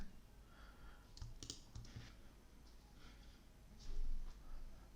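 A few faint, quick clicks of a computer mouse selecting a link, clustered close together and set against a low room hum, with no talking.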